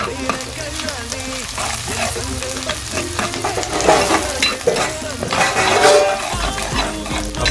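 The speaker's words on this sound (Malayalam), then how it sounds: "ഇതിനകത്തോട്ട് അരിഞ്ഞു വെച്ചേക്കുന്ന കൊച്ചുള്ളി, ഇഞ്ചി, വെളുത്തുള്ളി എല്ലാം നമുക്ക് ഇട്ട് കൊടുക്കാം." Chopped shallots, ginger and garlic sizzle and crackle in hot oil in a pan, with steady scraping and clinking of a spoon stirring them, loud and close, with a faint voice now and then.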